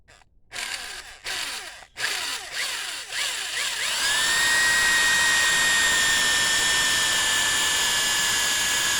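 Power tool cutting into a snapped CT200U-EX e-bike frame piece: a few short bursts of whining cut, then one steady sustained high-pitched grind to the end, close and loud, with no talking.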